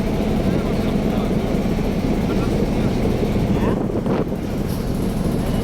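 A boat ride on a river, with a steady engine drone and rushing wind and water noise throughout, fairly loud and continuous, with a brief dip partway through.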